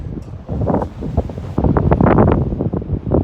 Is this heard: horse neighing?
no